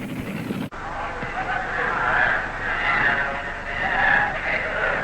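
A short-wheelbase fuel Funny Car dragster roars down the drag strip in a broad, rushing blast after a sharp cut, with a voice speaking over it.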